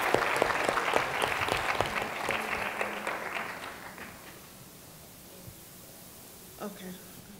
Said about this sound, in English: So can we give them a round of applause for making it happen?